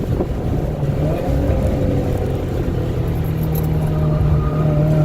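A race car accelerating on a track, its engine a steady, loud, droning roar with wind buffeting throughout.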